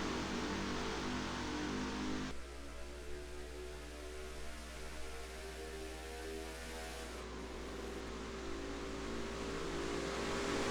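NASCAR-style race cars in a racing video game start a night sprint race at Daytona with a loud, continuous engine drone. The roar shifts pitch as the pack accelerates together.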